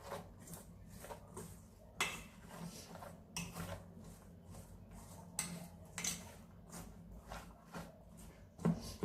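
Gram flour is stirred dry with chopped onion, tomato and coriander in a bowl for besan cheela, giving a run of soft scraping strokes and light knocks against the bowl at a quiet, uneven rhythm.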